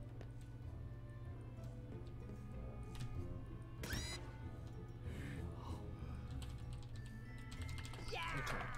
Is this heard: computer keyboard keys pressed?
yes